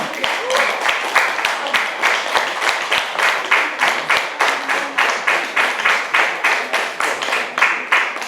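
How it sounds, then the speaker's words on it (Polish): Steady rhythmic applause from a concert audience, loud and close, with claps repeating evenly throughout. "Drodzy Państwo, wielkie, wielkie brawa!"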